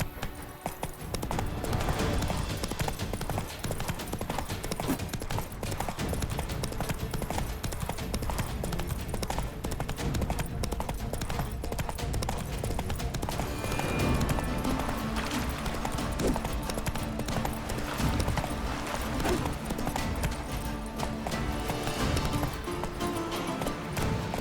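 Steady galloping hoofbeats from Roach, the horse in The Witcher 3: Wild Hunt, run continuously and loudly under a dense bed of game music and ambience.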